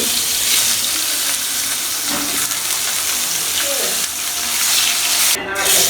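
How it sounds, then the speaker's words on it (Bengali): Rohu fish pieces, rubbed with turmeric, chili and salt, sizzling in hot oil in a frying pan, a steady close broadband hiss running throughout with a brief sharper splash of spitting near the end. "ফ্রাই প্যানে তৈল গরম হলে মাছগুলো দিয়ে দিব"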